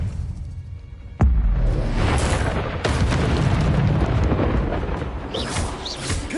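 Confringo blasting curse explosions in the Hogwarts Legacy video game: a sharp, loud boom hits, followed by a second blast and a sustained roaring rumble with crackling bursts, set amid busy spell-combat noise.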